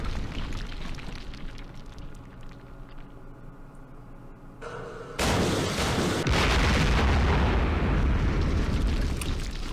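Rocket strikes in the Campaign Series Vietnam war game, with a rumbling bed that bursts into loud, sustained explosive booms and roaring blasts about halfway in and stays heavy to the end, no voices.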